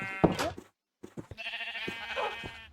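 Colored sheep in a Minecraft villa give a few short, wavering bleats at low volume, with quiet speech-like sounds near the start.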